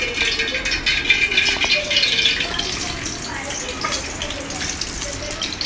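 Small aloo kachori puris fry in hot oil with a steady, bright sizzle and crackle that runs throughout, while a voice talks quietly beneath it.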